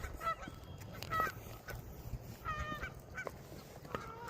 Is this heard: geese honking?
yes